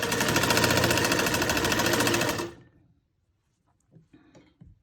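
Sewing machine stitching an armhole seam on fabric, running in a steady fast whirring burst for about two and a half seconds, then stopping, followed by faint handling clicks and rustles.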